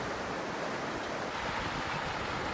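Creek water at the bottom of a hike in the New Mexico hills rushes in a steady, broad, close wash of noise, with no voices.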